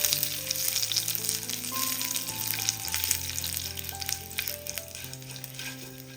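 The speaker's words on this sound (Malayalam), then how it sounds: "കടുകെല്ലാം ഒന്ന് പൊട്ടിയതിന് ശേഷം ഒരു മൂന്ന് വറ്റൽമുളക് ചെറുതായിട്ട് മുറിച്ചതും കൂടി ഇട്ട് കൊടുക്കാം" Mustard seeds, dried red chilies and curry leaves sizzle steadily in hot oil for a Kerala tempering, a continuous close crackle with no talk over it, while sustained musical tones run underneath.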